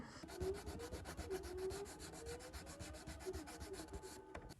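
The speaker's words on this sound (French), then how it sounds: "maintenant avec du papier à poncer, je suis en train de repasser par-dessus pour pas avoir ces espèces de petits impacts" Sandpaper is worked back and forth over the wooden edges of a handmade Viking-style chest, a steady, close rasping rub that keeps up its rhythmic strokes with no voices.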